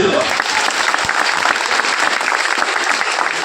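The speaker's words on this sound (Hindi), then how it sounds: "बजाओ ताली।" An audience at a Hindi religious talk on daughters bursts into sustained, dense clapping at close range, the applause steady and loud throughout with a faint voice briefly beneath it.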